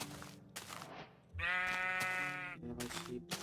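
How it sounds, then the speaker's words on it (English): A sheep in a Minecraft mod gives one clear, wavering bleat of about a second, close and alone, between short bits of other game sounds. "I need one more white sheep."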